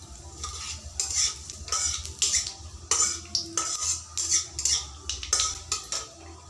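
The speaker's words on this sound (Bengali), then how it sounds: "কালো জিরেগুলো ফোড়ন দিয়ে দিব" Black cumin seeds temper in hot oil with a light sizzle, punctuated by rhythmic bursts of brisk stirring and scraping in the pan, close and without talk.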